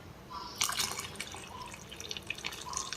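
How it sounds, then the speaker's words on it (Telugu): Water poured into a pot of lemon moong dal rasam in a home kitchen, a soft splashing, trickling pour with dripping that runs for a few seconds at a moderate, close level. "ఈ పప్పుచారు సరిపోను వాటర్ వేసుకుందాం."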